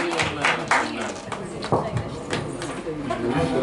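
An audience at a small honouring ceremony claps in a loose, uneven burst of applause, heard under someone speaking loudly over a microphone.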